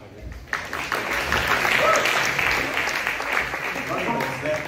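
An audience at a live concert applauds after a guitar solo, with sustained clapping from many hands and a voice talking over it.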